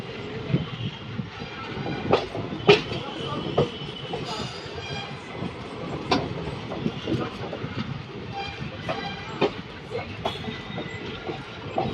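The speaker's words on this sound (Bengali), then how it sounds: "এই দেখো আমাদের লোকোমোটিভ।" An Intercity Express train between Katihar and Siliguri, hauled by a WDG4G diesel locomotive, rumbles along steadily with clickety-clack wheel beats and occasional sharper clanks, heard from on board at close range.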